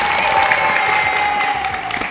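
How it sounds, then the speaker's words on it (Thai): Students applaud the competing teams at a school quiz show at Wat Rat Pho Thong School in Samut Prakan, a close, sustained burst of crowd clapping that stays strong and even throughout. "ขอเสียงปรบมือด้วยครับ"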